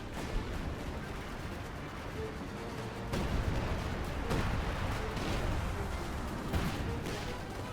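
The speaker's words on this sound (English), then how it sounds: "Sees the first airburst shell and runs." Artillery airburst shells in Company of Heroes 2 boom and crackle through dense, continuous battle noise, with louder bursts standing out around the middle and toward the end.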